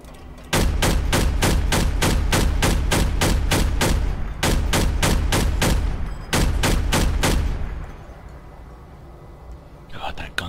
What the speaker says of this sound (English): God, that gun sounds good.